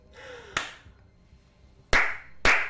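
Three sharp hand claps ring out at uneven intervals, crisp and fairly close in a quiet room, the last two coming quickly one after the other.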